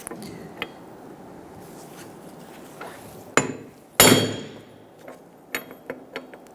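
Hammer blows knocking out a rear wheel hub on a 2002-2006 Honda CR-V, driven with a socket sized to the hub; two heavy metallic strikes stand out, followed by several lighter taps over a faint background.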